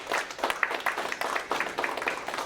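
An audience claps warmly after Dr. Emanuel Pastreich's reunification lecture in Washington, dense steady applause from a roomful of people throughout.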